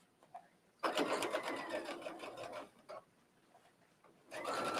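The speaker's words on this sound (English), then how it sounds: "And then I'll stitch down." Sewing machine stitching down an invisible zipper, with bursts of rapid rhythmic needle clatter, a long run then short ones, close and moderately loud, with quiet gaps between.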